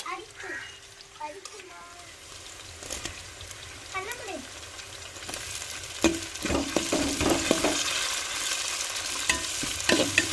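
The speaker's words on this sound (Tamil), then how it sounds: "வெங்காயம் வெள்ளைப்புள்ள நல்லா எண்ணெயிலே வதங்கி வைக்கணும்" Onions and garlic sizzling in oil in a pan, starting quiet with scattered scraping and clinks, then the frying hiss swells louder and busier toward the end, with a faint voice in the background.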